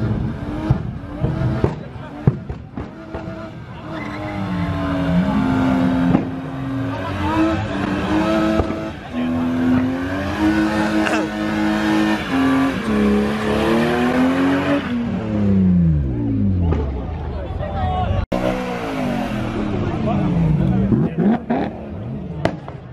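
A Toyota Supra with an upgraded exhaust accelerates hard nearby, its engine note climbing and falling through gear changes with a brief tire squeal, while excited voices talk over it.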